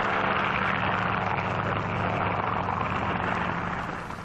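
Propeller control planes take off from an aircraft carrier during the WWII-era Operation Crossroads nuclear tests, their engines a loud, steady droning roar that holds near and then begins to fade at the end.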